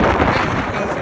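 Strong outdoor wind buffets the microphone in a continuous, loud low rumble with gusty roar throughout.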